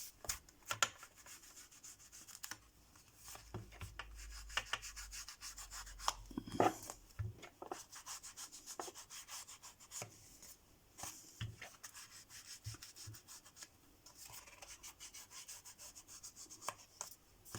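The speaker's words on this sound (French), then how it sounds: "Je vais ancrer tous les bords de la carte." An ink pad is rubbed along the edges of a paper card in soft, irregular scuffing strokes, faint and close, with occasional light taps and knocks on a tabletop.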